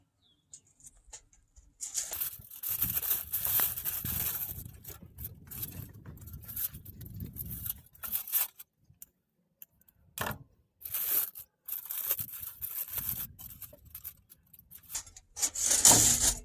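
Smoked barbecue ribs are set down on a sheet of aluminum foil while the foil is handled, giving close, intermittent crinkling, rustling and scraping in uneven bursts separated by short quiet gaps.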